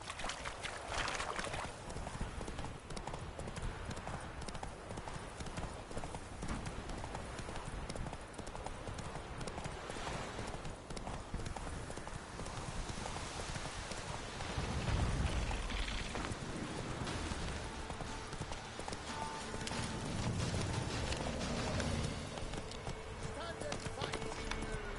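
Roach, the horse in the Witcher 3 video game, clip-clops along in a steady hoof rhythm under dense game ambience, with voices talking over it.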